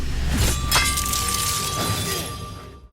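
A sword blade shatters during a duel in a film, a loud metallic crash with ringing shards that sustains and then fades out.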